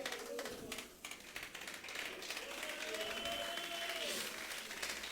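A church congregation applauds steadily for several seconds, a dense wash of clapping with voices mixed in underneath.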